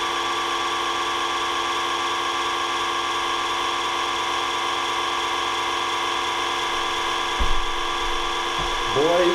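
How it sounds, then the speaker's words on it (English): A Creality Halot Mage Pro 8K resin printer's pump hums steadily as it slowly feeds resin into the vat, a constant close whine with a couple of brief thumps near the end. "I am going to manually feed the vat by pressing the in button on the printer."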